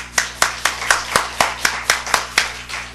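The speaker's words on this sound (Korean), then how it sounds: "박수 한번 하겠습니다." A church congregation claps in unison, about a dozen sharp, evenly spaced beats forming a steady rhythmic pulse over a faint low hum, loud and close with no talking.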